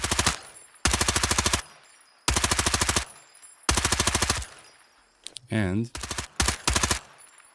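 Bursts of P90 submachine gun fire in the shooter game Incursion: Red River, several rapid full-auto volleys separated by short pauses, crisp and loud, with a brief voice cutting in near the end.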